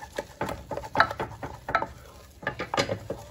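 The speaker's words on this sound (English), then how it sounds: "I'm just gonna stir that in" A spoon stirs cream puff dough in a pot off the heat, making soft, irregular scraping and squelching strokes close by at a moderate level.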